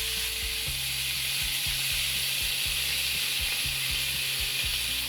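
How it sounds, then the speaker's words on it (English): Chicken pan-frying for bulgogi sizzles with a loud, constant hiss close by, over a low, regular ticking and humming hum from the stove, with no voices. "What I'll do is first pan fry the chicken."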